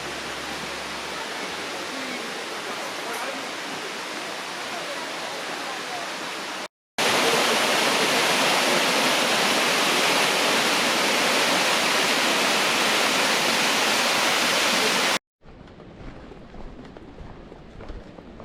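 River water rushes over a weir at a rasclosa, a steady, loud broadband roar that continues throughout, briefly cut off and resuming at a lower, more distant level near the end.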